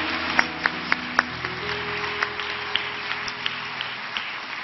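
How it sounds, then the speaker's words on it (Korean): A congregation applauds at a dawn prayer service in a Korean church, blessing the children after their dance performance, a steady moderate clapping with a few sharper claps standing out near the start. "다시 한번 우리 큰 박수로 우리의 꿈 아이들을 축복합니다"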